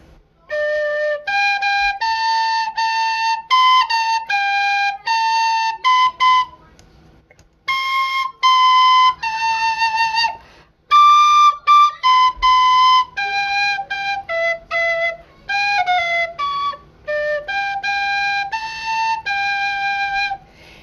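A tin whistle plays the slow hymn tune "O for a Thousand Tongues," bright sustained notes rising and falling with brief breaths between phrases, close and fairly loud.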